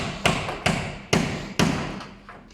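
A hammer striking a car part while a partly burnt Nissan S15 is worked on: four heavy, ringing blows spaced about half a second apart, each decaying before the next, close by.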